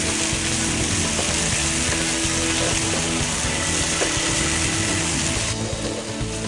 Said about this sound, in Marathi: ती येलो ग्रेव्ही सुद्धा परतून घ्यायची आहे थोडी।